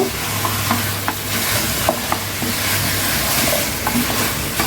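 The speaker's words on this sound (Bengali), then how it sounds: "শসাগুলোকে ভালোভাবে কষিয়ে নিতে হবে" Cucumber and potato pieces fry in a pan over a dense, loud sizzle. A spoon stirs them, making repeated soft scrapes and clinks close by, and nobody talks.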